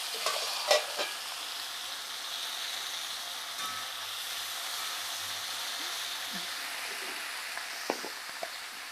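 Tomatoes sizzle in hot oil in a pan for a bottle gourd tomato pachadi, a steady hissing fry with a couple of clinks early on and light stirring taps later.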